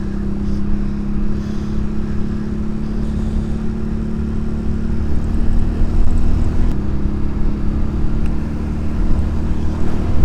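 A Honda CD200 motorcycle engine running steadily while being ridden, a constant droning hum with a slight rise in pitch partway through, close and continuous with wind noise and no talk.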